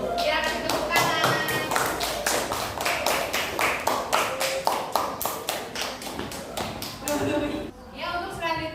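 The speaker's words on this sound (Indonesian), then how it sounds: "Ya, kasih tepuk tangan." Applause at a classroom teaching-practice session: broadband clapping runs steadily for nearly nine seconds, loud and close, with voices and tonal background sounds mixed in and a short dip near the end.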